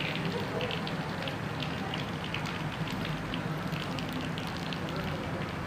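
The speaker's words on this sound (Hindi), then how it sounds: "इस वक्त आप देख सकते हैं बारिश बहुत तेज़ हो रही है" Heavy rain pours down in a Karachi street and water runs off the rooftops. The hiss is steady and dense, with no breaks, and stays the same loudness from start to finish.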